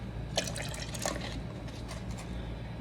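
Water is poured into a tall plastic beaker already holding oil, giving a few bubbly splashing gurgles over a low steady hum.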